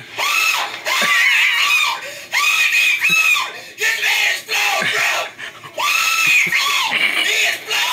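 A character in the Slender video game screams in loud, repeated drawn-out shrieks, several bursts separated by brief pauses.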